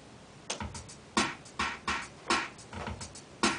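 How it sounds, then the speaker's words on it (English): A simple old-school drum machine loop with no effects, evenly spaced hits, crisp snare-like bursts and softer beats in a steady repeating pattern, dry and fairly close. "So it's just like an old school drum machine"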